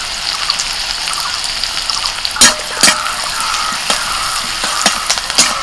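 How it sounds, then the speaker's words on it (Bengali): Chopped onion and green chilli sizzle steadily in hot oil, a dense crackling hiss broken by a few sharper clinks and stirring knocks, close and fairly loud with no talking. "ওই তেলের মধ্যে দিচ্ছি পেঁয়াজ কুচি কাঁচা লঙ্কা কুচি"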